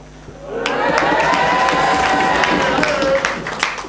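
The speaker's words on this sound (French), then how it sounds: "Tout autour, une foule en délire." A crowd around a bullfighting arena erupts in loud cheering and applause, rising suddenly and holding a wild, sustained roar with whistles and shouts close by.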